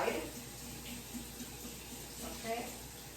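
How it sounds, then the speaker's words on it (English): Cold tap water runs steadily over cooked noodles in a colander as they are rinsed for pad Thai, a continuous splashing hiss at moderate level with faint voices in the background. "And then rinse it with cold water to stop the cooking."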